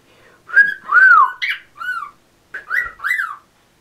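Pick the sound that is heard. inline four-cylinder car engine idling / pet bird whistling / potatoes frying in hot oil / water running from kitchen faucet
pet bird whistling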